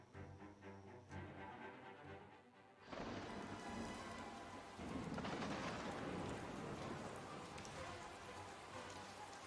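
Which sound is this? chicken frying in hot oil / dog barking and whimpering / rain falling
rain falling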